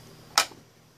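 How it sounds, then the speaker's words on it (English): A zip tie is pulled tight around a cable at a notch on the circuit board of a Technics SL-1200 turntable, making one quick ratcheting zip, close and crisp, in an otherwise quiet room. "Tie your zip tie down."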